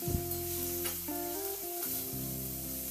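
Chopped tomato fries with onion, ginger and garlic in a hot pan, a close, steady sizzle with faint stirring scrapes throughout.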